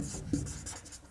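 Pen scratching across paper as a heading is written by hand, a continuous soft close-up scraping with one brief tap near the start, no voices.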